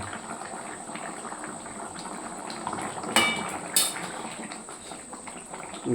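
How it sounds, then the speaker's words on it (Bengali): Chicken curry gravy with potatoes boiling in a pot, a steady close bubbling simmer with a few clinks of a utensil against the pot and no talking. "ঝোলটা কীরকম ফুটছে"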